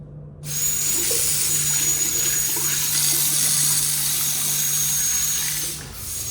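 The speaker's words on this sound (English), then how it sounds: "Look at the pressure on this sink." A sink faucet gushes at high pressure, a loud continuous hissing rush of water that starts abruptly and holds steady before tapering off.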